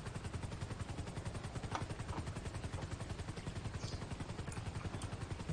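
A helicopter in GTA V gives off a continuous rapid rotor chop, steady and faint, with no talk over it during an oil refinery heist.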